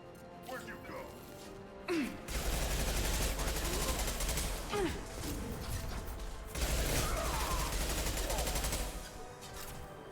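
Heavy gunfire in a Mass Effect trilogy battle on Insanity difficulty, with two long, dense volleys of rapid shots and mechanical clatter, separated by a short lull, and voices partly underneath.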